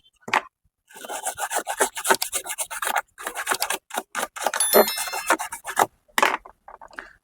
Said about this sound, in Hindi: इसको ब्रश से ऐसे इस तरह से रगड़ लेना है